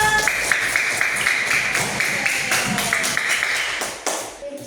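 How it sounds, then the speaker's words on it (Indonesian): A classroom of primary-school children claps for student groups, a dense run of near hand claps with a faint voice or two underneath, fading out toward the end. "Tepuk tangan untuk kelompok 1, 2, dan 3"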